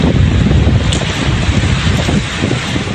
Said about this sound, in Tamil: மேலும் கோவை கணுவாய், மருதமலை செல்லக்கூடிய சாலையில் புழுதி காற்று சுழன்றடித்தது.